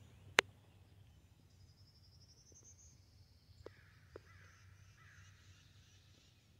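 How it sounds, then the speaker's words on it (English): Faint birds call sporadically in a still, calm morning outdoors, including a woodpecker, a sharp click near the start and a few brief chirps later. "You can hear the birds."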